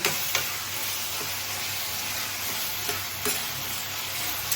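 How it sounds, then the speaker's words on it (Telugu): Tomatoes cooking down in a pan for a dried fish and tomato curry give a steady, close sizzle with a few light stirring clicks and no voices. "టమాటా కూడా బాగా మెత్తగా మగ్గిపోయే వరకు ఇది మగ్గించేద్దాం"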